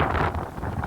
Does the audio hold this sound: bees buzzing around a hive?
no